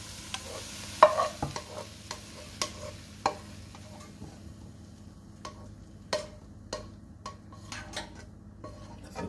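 A utensil scrapes cooked beef bits out of a pan in a series of irregular scrapes and clinks over a faint background sizzle, close and moderately loud, with no talking.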